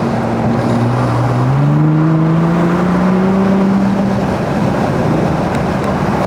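A 2024 Ford Raptor in Baja exhaust mode accelerating hard, a loud continuous engine roar rising in pitch through a gear change, heard with the windows down over steady road noise.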